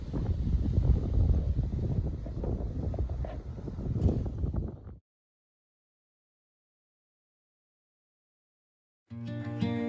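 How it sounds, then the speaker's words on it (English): Heavy wind buffeting the microphone outdoors among trees and hills for several seconds with low rumbling gusts, then sudden silence before music starts near the end. "It's a little windy."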